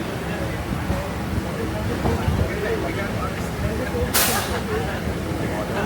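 A Kolkata local train rolls slowly toward a stop, its low rumble and rattle steady beneath cabin noise, with a sharp burst of air hiss near the end and voices sometimes talking over it.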